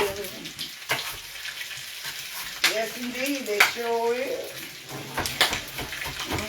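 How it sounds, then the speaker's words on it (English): Pork pigtails are dropped into a pot of water for New Orleans red beans, making intermittent splashing and sloshing with a clatter of the pot, while a person speaks briefly over it. "the pigtails going in the water"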